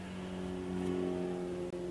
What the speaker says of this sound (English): What are you driving, like a motorcycle?